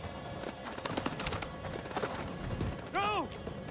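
Gunfire rings out in the House of Ashes video game as a few sharp shots crack in quick succession amid battle noise, with a voice briefly shouting near the end.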